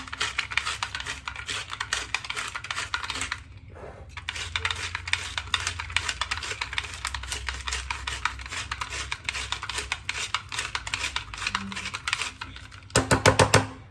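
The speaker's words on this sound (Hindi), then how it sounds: "तो इसमें थोड़े से बादाम डालेंगे और देखो क्या मस्त क्रश हो रहा है" Almonds crushed in a new crusher give a dense, rapid crackling and grinding that runs for several seconds, pauses briefly, then continues, ending in a louder burst.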